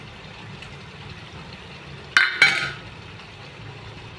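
Fried egg cake pieces go into a pan of simmering masala curry with two quick, sharp metallic clinks close together, surrounded by a low, quiet kitchen background.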